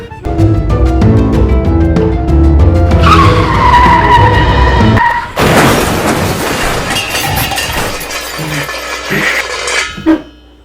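A vehicle skids with a loud, rising tire squeal that gives way to a harsh, crashing burst of noise, then rattling debris and a fading rumble, all close and loud.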